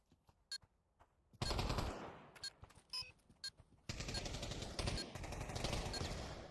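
Automatic gunfire in the VR shooter Pavlov during a competitive match, with bursts and single shots crackling sharply at first, then a long sustained roar of fire, loud and close.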